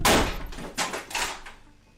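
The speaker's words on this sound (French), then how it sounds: "revoici une compilation de ses pétages de porte." A door is repeatedly kicked or smashed in, giving three or four loud, heavy crashing impacts in quick succession with rattling debris, close and with no talk.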